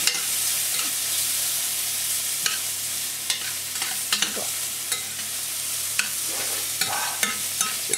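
Oyster mushrooms and paper-thin onion slices fry in a pan with a constant bright hiss, punctuated by irregular scrapes and light knocks as the pan is tossed and stirred; no talking.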